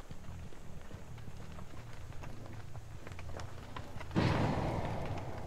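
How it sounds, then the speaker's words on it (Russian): Running footsteps in Dead by Daylight, a steady patter of quick thuds under a low droning game ambience, with a louder rush of noise swelling near the end. "Я слышу, кто-то где-то бегает"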